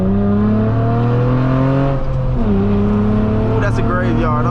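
A KTUNED-tuned 3.5L V6 Honda Accord, 8th generation, pulls hard on a backroad, its steady engine drone rising in pitch, easing off briefly, then climbing again, loud and close, with someone talking over it.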